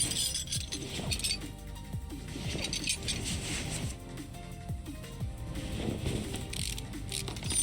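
Ratchet clicks and metallic clinks ring out as engine bolts come off during disassembly in Car Mechanic Simulator 2018, a dense run of rapid mechanical ticks and tool sounds at steady loudness with no talk.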